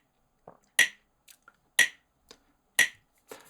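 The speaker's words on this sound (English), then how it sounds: "we now have 2 bars of clicks and then 2 bars of the metronome on the afterbeat" Sharp metronome clicks from the Gap Click app land on the afterbeat, one strong click about every second with softer ticks in between, crisp and close with no talking.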